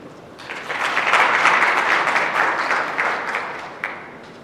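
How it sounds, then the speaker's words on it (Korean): A seminar audience welcomes a speaker with applause, many hands clapping in a dense wash that swells after a quiet start, holds for a few seconds, then tapers off near the end. "박수로 맞아주시기 바랍니다."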